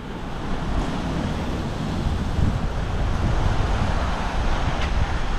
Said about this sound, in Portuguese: Aqui uma área já tá mais forte a onda, hein?